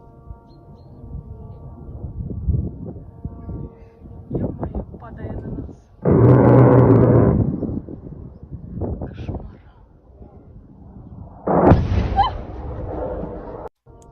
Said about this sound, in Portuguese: Primeiro a metralhadora, a rajada de metralhadora do F-16 e depois a explosão